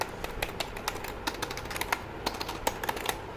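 Fingers type on a lightweight plastic semi-mechanical RGB gaming keyboard with tall raised keys, producing a steady run of quick, uneven clacking keystrokes heard up close with no voices.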